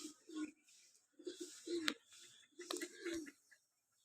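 Soft, low coos from a male and female pigeon pair come in several short rounded bursts, close by in a quiet space.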